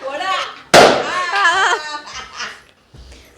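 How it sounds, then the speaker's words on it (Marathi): A balloon bursts with one sharp pop during a lively party game at a Malvani gathering in Dombivli, followed immediately by excited voices and laughter. "तर एक एक फुगा फोडलाय"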